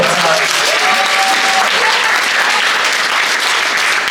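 An audience at a Polish stand-up comedy show breaks into loud, sustained applause for Mr Piotrek, close and dense clapping that carries on evenly throughout.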